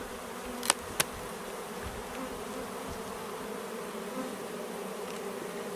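Honeybees in a strong hive hum steadily and close during an early spring inspection, a dense continuous drone with two sharp clicks near the start.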